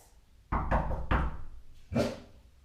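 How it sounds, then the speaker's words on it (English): Knocking on a front door in a home without a doorbell: three firm, close knocks in quick succession, then a short pause and one more knock, followed by faint quiet. "it might be knocking on the door"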